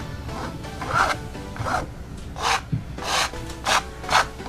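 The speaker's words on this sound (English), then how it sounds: "Just gonna scrape this in. And this is just adding texture." Paint being scraped across a canvas to add texture on an abstract sunflower painting: a series of about six rough, rasping strokes, each a short close swipe with brief pauses between, and no talking.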